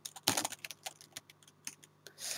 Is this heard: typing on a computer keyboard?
yes